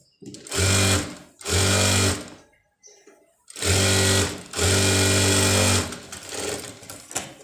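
Sewing machine stitching a puff sleeve on a garment, running in two pairs of loud, steady bursts of about a second or more each, with short pauses between them and no talk.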